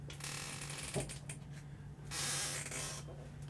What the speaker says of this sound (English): Spray the record, give it a little rub.